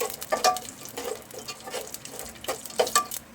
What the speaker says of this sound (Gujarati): હવે ચણાની દાળ અને શીંગદાણાને ફ્રાય કરી દઈએ